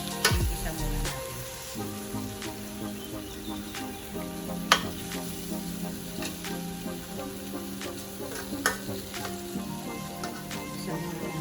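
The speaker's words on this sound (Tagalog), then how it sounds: "Igisa muna natin siya." Beef and broccoli sauté in a pan, a soft continuous sizzle with occasional stirring scrapes and light clinks, fairly quiet and close, with no voice.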